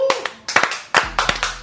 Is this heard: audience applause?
yes